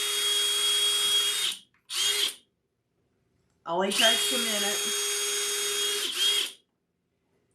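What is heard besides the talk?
small drill bit drilling a wooden Easter door hanger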